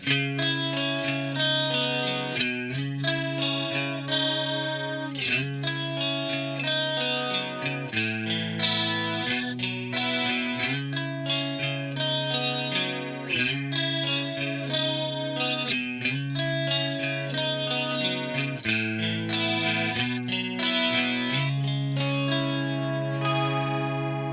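Electric guitar runs through an ADA MP1 preamp on its compressed chorus preset, ringing out sustained, shimmering chords and arpeggios with a warbling chorus and echo, played continuously without talk.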